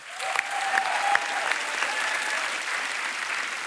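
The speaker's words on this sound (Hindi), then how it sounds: "लेकिन एक बार तो जोरदार तालियां यार" A television comedy show's studio audience breaks into applause, swelling quickly into a dense, lively clapping with a few whistles and cheers on top, steady through the end.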